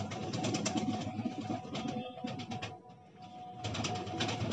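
Soft cooing from a Sheesham breed pigeon kept with other fancy pigeons at a dealer's loft, low throaty calls repeating in short phrases, fairly faint, with small gaps between bursts.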